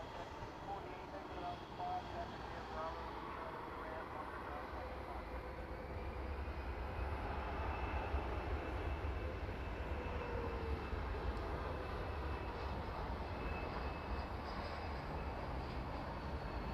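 A Delta Airbus A319 jet at night at DFW Airport gives a steady, broad roar that swells slightly partway through, with a faint rising whine; distant and continuous with no talking.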